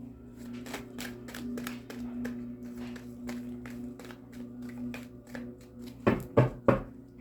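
Close, crisp riffling of tarot cards in rapid bursts, ending with a few louder taps and snaps as the deck is squared.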